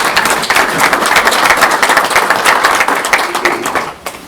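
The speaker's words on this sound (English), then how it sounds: "So really do give Kyle a hand clap here." A room full of people applauding, dense clapping sustained for a few seconds before tapering off at the end.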